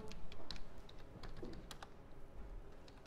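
Quick, light keystrokes on a computer keyboard while code is typed, irregular clicks close by over quiet background hum.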